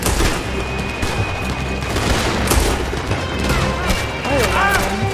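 Dense, rapid gunfire rattles through a shootout in the video game Red Dead Redemption 2, with overlapping shots and booms forming a continuous, loud battle din for about five seconds.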